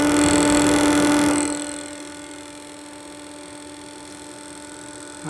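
A 2009 Vortice extractor fan runs with a steady tonal hum and whine, louder at first and then settling into a quieter, constant drone.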